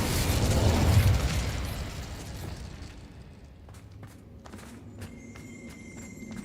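A fire spell cast in Hogwarts Legacy roars out as a loud whooshing burst, then fades into a lower crackling rumble with scattered clicks and tones.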